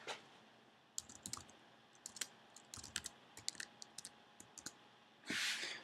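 Close, crisp clicks come in irregular bursts over a quiet background, mixed with keyboard-like tapping, and a short rustling burst near the end.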